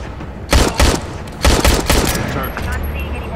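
Several bursts of gunfire from the stealth-action video game Splinter Cell Blacklist, fired in two quick groups of loud, close shots with a lingering boomy tail between them.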